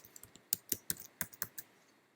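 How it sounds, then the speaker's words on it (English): Quick keystrokes on a computer keyboard as a name is typed, about a dozen light clicks in an irregular burst, close and fairly soft, with no talking. "I'm just going to type in her name"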